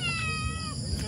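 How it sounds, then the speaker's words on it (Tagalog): A single drawn-out cat meow at a campsite, close and clear, with faint background noise underneath. "Meow."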